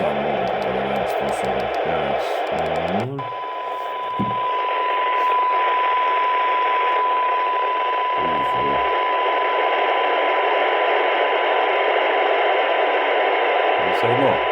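A Wouxun KG-UV980P transceiver tuned to 145 MHz picks up a received signal: steady loud hiss carrying a continuous pure tone, with brief clicks of the radio and someone speaking at the start.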